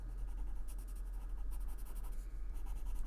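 A pencil sketches small lizard shapes on a page of paper in a steady, close scratching rustle of strokes, continuous and soft, with no talking.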